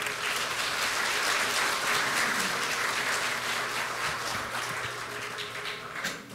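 A hall full of guests at a Democratic Party commemoration of the 6.15 North–South Joint Declaration anniversary gives dense, sustained applause to welcome a speaker, tapering slightly toward the end.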